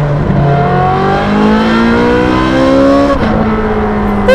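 Ferrari 458 Speciale with a naturally aspirated V8 revving hard from inside the car, a loud continuous engine note climbing steadily through the gears with a brief dip at a shift before pulling up again.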